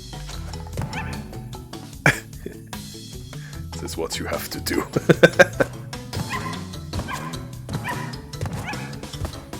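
A Crash Bandicoot Trilogy character makes dog-like barking and yipping noises in short bursts over game music, with a person talking at the start.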